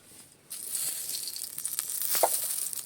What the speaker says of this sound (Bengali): কড়াইতে সর্ষের তেল দিয়ে দিচ্ছি।